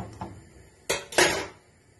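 A small metal spoon scrapes and clinks against a pan while flipping a sweet crepe: a faint tap, then two sharper scraping knocks close together, with quiet kitchen background and no talking.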